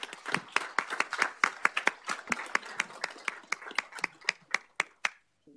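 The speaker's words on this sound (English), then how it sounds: "Let's give them a round of applause." A small audience at a city council meeting claps for a proclamation: sparse, crisp individual hand claps, fairly close and steady, thinning out toward the end.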